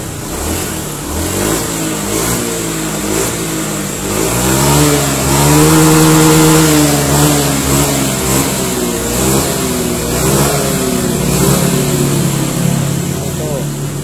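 A Honda Beat injection motor scooter engine revs up and holds at a higher pitch, then settles back to a steady idle, recorded close by after a fix for jerking on acceleration.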